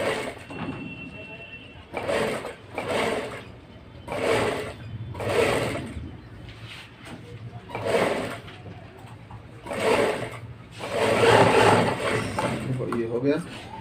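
A sewing machine stitches a blouse in repeated short bursts of a second or so, with pauses between runs, close and moderately loud, and a voice occasionally heard.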